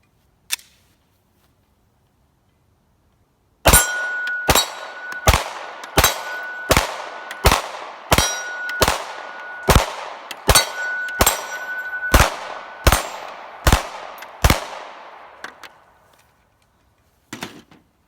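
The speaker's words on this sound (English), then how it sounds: "that's a fairly fast shooting gun" A Walther Creed pistol fired in a rapid string of about fourteen loud, sharp shots at a steady pace, each with a ringing metallic clang, then a brief pause and a faint click near the end.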